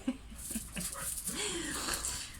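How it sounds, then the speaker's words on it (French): A pet dog whimpers and pants, eager to play, with soft breathy whines and a rising whine at close range, over a steady background hiss. "le chien veut jouer"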